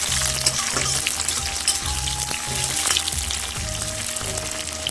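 Capsicum fries in a pan over a spice paste with a loud, steady sizzle, scattered spitting pops and a few low stirring knocks close by. No one speaks.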